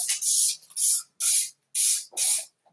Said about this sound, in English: you just want to spray this off here, okay? So I'm just going to spray that.